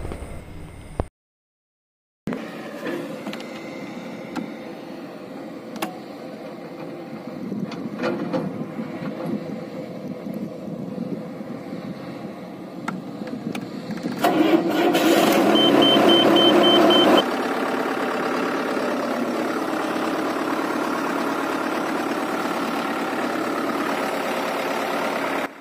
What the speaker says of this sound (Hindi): गाड़ी अच्छे से चालू हो गया